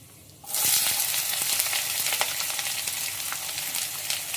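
Onions fry with chana dal in a pan over low heat for a raw banana dry palya. After a short quiet start, a steady, close sizzle takes over with faint stirring ticks.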